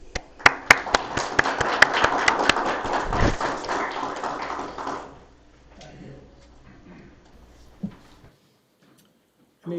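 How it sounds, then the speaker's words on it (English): Applause at a school board of education meeting, a burst of clapping from a room of people for about five seconds that then fades, followed by faint room noise and a few scattered knocks. "Please give them a round of applause."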